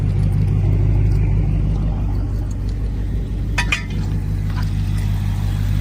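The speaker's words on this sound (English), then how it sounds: "we're gonna let the car idle for around 2 to 5 minutes" A Dodge Charger wide body's engine idles steadily with a low, constant rumble, close by, with a faint clink partway through.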